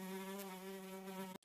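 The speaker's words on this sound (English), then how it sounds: "Fly." A fly buzzes in one steady, close, droning hum with a clear tone, cutting off abruptly at the end.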